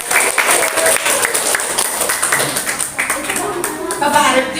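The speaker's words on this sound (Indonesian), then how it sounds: "bapak-bapak spesial beri tepuk tangan dong buat bapak-bapak" A room of teachers at a storytelling training breaks into sustained applause for the men in the group, dense clapping running steadily throughout with voices mixed in.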